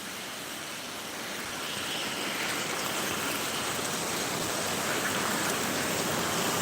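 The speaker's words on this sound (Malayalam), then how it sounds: "നല്ല മഴയാണ് നല്ല മഴയാണ്" Heavy rain pours during an outdoor walk, a dense, even hiss that swells after the first two seconds and holds steady with no voices.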